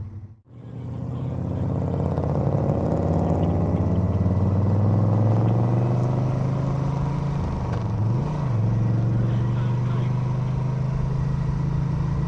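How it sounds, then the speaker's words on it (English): Engine of a Moto Guzzi California 1400 touring motorcycle, starting abruptly and then holding a loud, steady rumbling drone close by, with a slight pitch rise and one brief dip partway through, no talking. "You rev it up and you feel the whole bike kick sideways."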